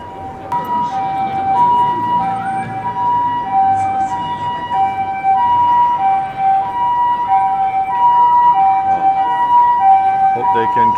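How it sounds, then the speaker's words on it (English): Osaka Fire Department ambulance siren passing along a busy shopping street in Namba, a two-tone wail alternating steadily and loudly for several seconds over city traffic and crowd murmur. "I'm actually gonna move to the side and let this ambulance get through."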